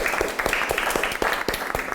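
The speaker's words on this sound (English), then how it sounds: "Welcome her with an applause, I would say." An audience applauds to welcome a speaker onto the stage at a debate event, a steady spread of many hands clapping close by for two seconds.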